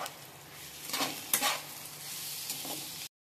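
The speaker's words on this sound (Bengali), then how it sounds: "দিয়ে দিলাম পরিমাণ মতো নুন। এবার আমি হালকা ভাজা করে নেব।" Prawns seasoned with turmeric and salt lightly frying for an Ol chingri bhapa, a steady close sizzle with a few stirring scrapes and clinks before it cuts off abruptly near the end.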